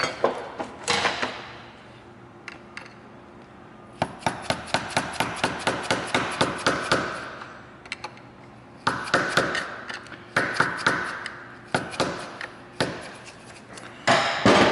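A metal tool taps and pries at the lock tab on a motorcycle chain sprocket, sounding as rapid bursts of sharp metallic hammer-like knocks close up, separated by brief pauses.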